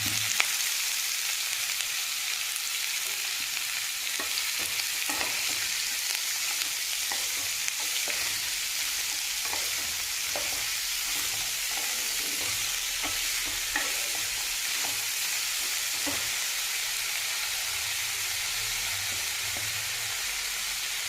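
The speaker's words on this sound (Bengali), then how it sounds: "এবার আমি কপি আর আলু কেটে রাখা এটা দিয়ে দিচ্ছি সবজিটা" Cauliflower and potato frying in a pan for samosa filling, with a steady dense sizzle throughout and faint soft stirring knocks, close and continuous with no voices.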